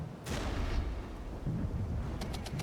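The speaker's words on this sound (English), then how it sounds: "And I want some heavy artillery also on these sections." Heavy artillery fire in the WWII-style strategy game Regiments, a dense rumbling barrage of booms with a sharp blast near the start and a few crackling impacts toward the end, loud and continuous.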